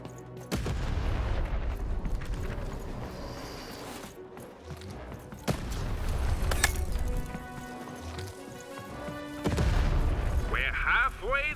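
Cannon blasts in the video game Lost In Random come as three heavy booms spaced a few seconds apart, each followed by a rumbling tail, amid busy game sounds.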